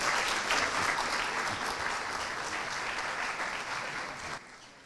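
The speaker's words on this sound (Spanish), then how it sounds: "recibamos a Ash Pachauri con un caluroso aplauso" Warm applause from a conference audience welcoming a panelist at a smart cities panel, dense clapping that gradually fades and stops abruptly.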